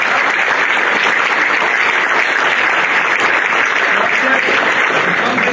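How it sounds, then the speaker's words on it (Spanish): Sustained applause from a concert audience at a thank-you concert, a dense and evenly loud wall of clapping lasting over five seconds with no gaps. "Vamos a darles un aplauso."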